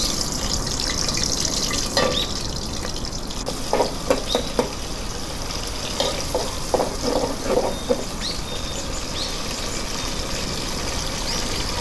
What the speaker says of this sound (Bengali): তেলটা গরম হওয়ার পরে আমি এতে 2টা পেঁয়াজ কুচি দিয়ে দিলাম